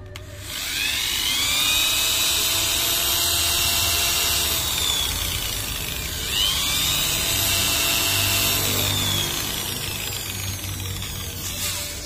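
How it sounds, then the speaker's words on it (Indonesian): An electric drill sands the front of a bearing housing on an 18-inch Miyako electric fan, giving a sustained, close, high-pitched whine that dips and spins back up partway through. "Untuk selanjutnya saya menggunakan alat bor seperti ini."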